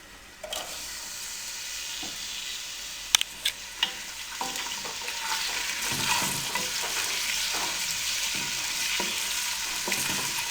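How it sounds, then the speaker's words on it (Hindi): Chopped onions hit hot cooking oil for a mixed daal masala and set off a loud, steady sizzle, with a few sharp clicks and stirring scrapes in the pan and no speech throughout. "कुकिंग ऑयल हमारा गर्म हो चुका है। अब इसमें हम प्याज डाल देंगे।"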